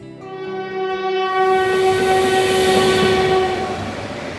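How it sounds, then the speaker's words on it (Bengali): A train horn blares loud and close, a long sustained tonal blast over rumbling rail noise as the train arrives, with no voices. "ট্রেন এলো আমি উঠলাম"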